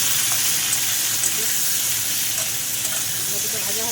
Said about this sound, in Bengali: আমলকিটা একটু ভাজা ভাজা করে নেব।